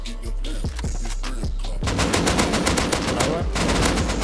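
Rapid automatic gunfire in the survival game Rust during a PvP fight, first scattered single shots, then a loud sustained burst of machine-gun fire filling the rest of the moment.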